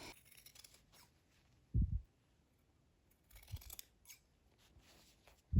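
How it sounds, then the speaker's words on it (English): Scissors cut away a fabric seam allowance at the top of a sewn shirt-dress piece, giving a few short, crisp snips spaced apart in a quiet room. "at the top, we're going to cut away the seam allowance"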